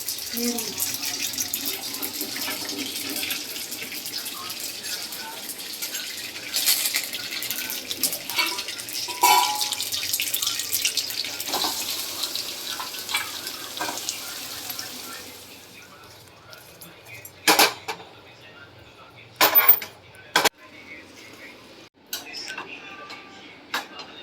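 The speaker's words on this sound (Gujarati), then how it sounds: "જીરા નાખીને ઢોકળા વઘારી લઈશું" Cumin seeds sizzling in hot oil as a tempering for dhokla made from jowar and bajra flour: a steady frying hiss for about fifteen seconds, then quieter with a few sharp clatters.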